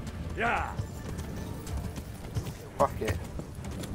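Horse hooves clop and a horse whinnies in Kingdom Come: Deliverance. The steps are scattered and fairly near over an ambient game background, and someone talks in short bursts.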